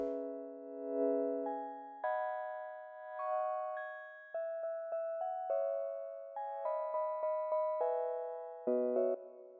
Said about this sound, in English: I loaded in a preset from Alchemy. It's called Sound of Life. And it sounds like this.